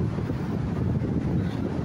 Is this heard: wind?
yes